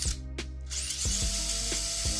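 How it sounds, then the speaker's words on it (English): Furitek Stinger brushless outrunner motor in a Redcat Ascent 18 crawler, a steady close whirring hum with repeated ratchety clicks and brief bursts, no voices. "now we have that nice, you know, ASMR motor turning right there, the outrunner"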